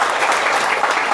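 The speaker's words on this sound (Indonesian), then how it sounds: "Yang setuju beri tepuk tangan dulu bagi Tuhan." Audience clapping at a church sermon, a dense, loud, continuous burst of many hands applauding together.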